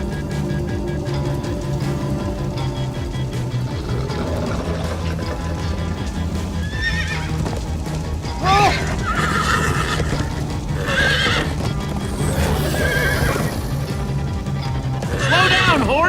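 In the Minecraft Story Mode video game, horses gallop with quick clip-clopping hooves and let out several shrill whinnies, loud and near, amid a busy game soundtrack and character voices.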